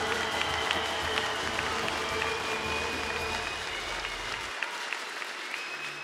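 A crowd at an SDA Sandžak election rally applauds, a dense, sustained wash of clapping and cheering that fills the space and fades toward the end, with whistles and shouts mixed in.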